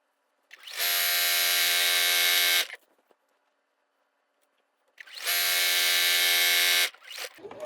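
A sewing machine stitching denim binding onto a quilt runs in two steady, even motor whirs of about two seconds each, separated by a quiet pause and standing alone with no talk.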